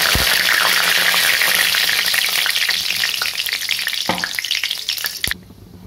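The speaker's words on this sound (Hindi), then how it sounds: "और इसमें डालेंगे हम कड़ी पत्ता।" Curry leaves and panch phoron (cumin, fennel, mustard and fenugreek seeds) sizzle loudly in hot oil in a pan, with a dense, crackling hiss and a few sharp spits before the sound cuts off abruptly near the end.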